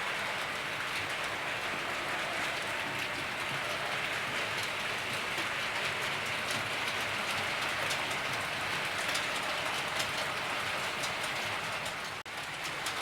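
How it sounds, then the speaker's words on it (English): A Hornby model train pulling Mark 3 coaches runs slowly around a track, giving a steady, even rolling whir and rattle that continues without a break. "we're running it round at a slow pace, so you can actually see the carriages"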